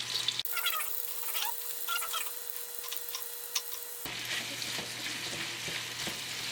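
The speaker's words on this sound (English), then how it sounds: "Fry them up." Bacon, mushroom and onion frying together in a pan, giving a steady close sizzle with scattered pops and crackles throughout and no voices.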